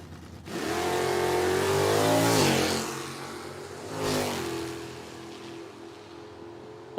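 A stock-category drag race car at an IHRA Outlaw Nitro Series time trial roars down the strip on a single run, a loud rising engine note sweeping up, briefly dipping, then fading into the distance.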